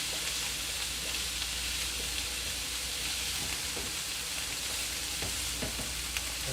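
Vegetables for a zucchini lasagna fry in a pan, a loud continuous sizzle with occasional stirring scrapes, close and steady with no talking.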